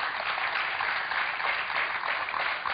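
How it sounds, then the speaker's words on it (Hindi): A TV studio audience applauds with dense, steady clapping that holds at an even level throughout, slightly muffled and with no voices over it. "बड़ी जोरों से तालियां वालियां बज रही हैं"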